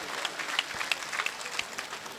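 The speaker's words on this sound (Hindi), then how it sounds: "जोरदार तालियां हमारी यशस्वी नेता माननीय वसुंधरा जी के लिए" Applause from a crowd at a political rally in Rajasthan honouring a party leader, a dense, steady patter of many hands clapping throughout, moderately distant and even in level.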